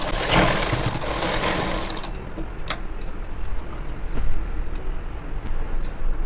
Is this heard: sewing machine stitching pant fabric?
yes